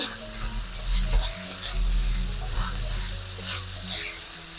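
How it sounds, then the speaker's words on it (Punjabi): Tomatoes and ginger are stirred and fried in a pan for a jackfruit (kathal) sabzi, giving a steady close sizzle with intermittent scraping of the stirring spoon and a low hum beneath. "ਹੁਣ ਆਪਾਂ ਪਾਵਾਂਗੇ ਟਮਾਟਰ ਦੋ ਆਪਾਂ ਟਮਾਟਰ ਲਏ ਆ ਹੁਣ ਕਰਾਂਗੇ ਆਪਾਂ ਇਸ ਨੂੰ ਮਿਕਸ"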